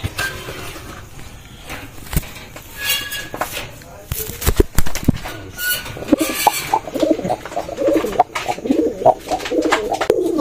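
Pigeons being paired, a male and female put together, coo repeatedly close by in a loose rhythm, with someone talking over them and some rustling and knocks.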